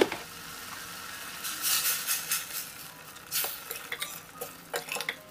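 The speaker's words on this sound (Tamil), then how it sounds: "நல்லா வதக்கணும்" Coriander, chilli and turmeric powders are stirred and sautéed in a pan for parotta salna, a spoon scraping and clinking against the metal in quick irregular strokes over a faint sizzle, close up, with no voices.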